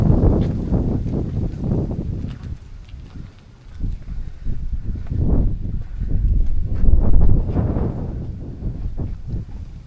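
Steady wind buffets the microphone in rough, rumbling gusts inside an abandoned factory in Cavite, with rustling and a few knocks over the top, swelling louder toward the end.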